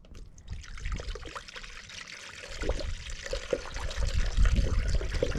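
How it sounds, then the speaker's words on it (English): Antifreeze pours into the radiator of a 2003 Chrysler Town and Country, making a steady close trickle and gurgle of liquid that grows fuller and louder as filling goes on, with no speech. "Let's go ahead and put the antifreeze."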